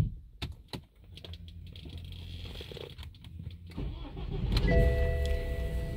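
A 2010 BMW X3 SUV with a faulty gear selector cranks and starts nearby, with clicks and mechanical rattles at first, then the engine catches and swells into a steady, louder idle with a faint whine.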